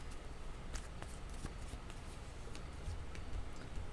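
Tarot cards are shuffled quietly, giving a soft continuous riffle of papery flicks and light taps with no talking.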